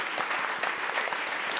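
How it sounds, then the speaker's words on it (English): An audience at a debate event applauds, a dense, steady wash of many hands clapping throughout the brief moment, moderately loud with no voices standing out. "One more round of applause for all four of them for taking part in this."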